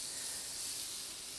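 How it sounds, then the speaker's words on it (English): Onions sizzle in a hot cast iron pan, giving a soft, steady hiss of frying that stays faint and even throughout the brief moment. "Okay, we have some sizzle here, so I'm going to turn this down just a little bit."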